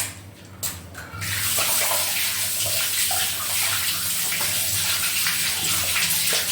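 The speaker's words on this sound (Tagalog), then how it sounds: "Meron naghuhugas ng kamay." Hands are washed under a running tap in a home kitchen while chapati is being prepared; a steady, close gush of water starts after a brief quieter moment and continues evenly to the end.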